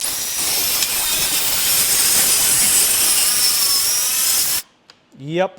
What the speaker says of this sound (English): Now we cut. Don't know if I'm going to hit this clamp with the circular saw